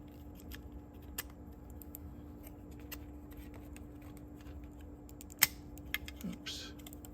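Small plastic clicks, taps and scrapes of fitting a cassette stabilizer into an Akai tape deck, faint and intermittent over a low steady hum, with one sharper snap near the end.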